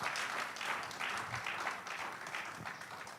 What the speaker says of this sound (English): A round of applause for my panel